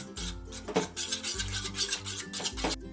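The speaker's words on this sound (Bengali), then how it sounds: "ডিমটা যতক্ষণে ফেটাচ্ছি আমি" Eggs beaten with homemade garam masala and spices in a bowl for a restaurant-style egg chilli, a fork or whisk scraping and clinking quickly and rhythmically against the bowl, close up, with no talk.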